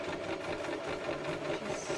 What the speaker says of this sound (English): Just sew it right around.